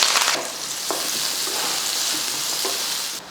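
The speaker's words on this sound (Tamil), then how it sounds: "ஒரு பக்கம் கடாயை வச்சுட்டு இது போல் நல்லெண்ணெய் ஊற்றிக்கலாம் எண்ணெய் காஞ்சதுமே ஒரு பெரிய வெங்காயமும் அப்புறமா கொஞ்சம் கருவேப்பிலையும் சேர்த்துடலாம்" A large onion and curry leaves fry in hot sesame oil in a kadai for a country chicken curry, giving a steady close sizzle that stays even throughout, with a brief stir near the start and no talking.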